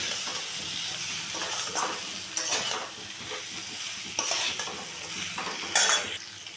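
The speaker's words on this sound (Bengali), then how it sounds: "এখন দিয়ে দিলাম আলু আর কুমড়ো ভেজে রাখা দিয়ে দিলাম দিয়ে ভালো করে আবারও মিশিয়ে নেব" Fried potato and pumpkin pieces are stirred into a sizzling masala in a pan, with repeated scraping spatula strokes over a low, steady crackle, close and fairly quiet.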